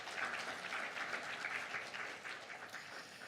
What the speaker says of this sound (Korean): 여러분 장관님께 뜨거운 응원의 박수 한번 부탁드리겠습니다